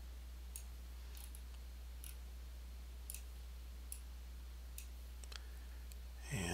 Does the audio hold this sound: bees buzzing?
no